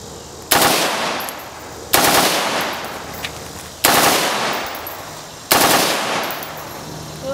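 A gun fired on full automatic at a range, four loud short bursts spaced a second or two apart, each ringing out with a long echoing tail.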